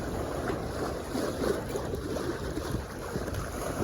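A sailboat underway in wind, steady rushing water and gusting wind buffeting the microphone, a constant broad roar with no talk.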